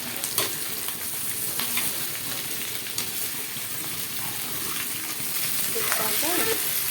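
Sliced raw bananas frying in plenty of oil in a pan, a dense, loud, continuous sizzle with occasional stirring scrapes and clinks throughout, no voices.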